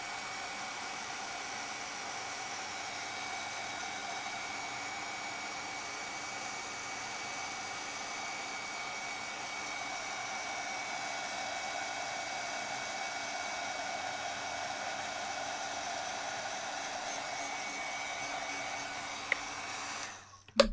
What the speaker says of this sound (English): I'll get my heat tool warmed up and we'll melt the powder.